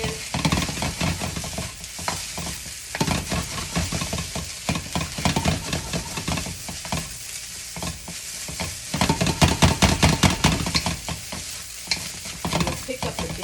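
Shrimp fried rice is stir-fried in a wok, giving a loud continuous sizzle with rapid rhythmic scraping and clattering of a utensil against the metal, growing busier toward the end.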